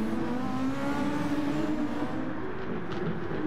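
A Super Formula open-wheel race car in Gran Turismo Sport holds a steady, high-pitched engine whine, droning continuously at an even loudness without passing by.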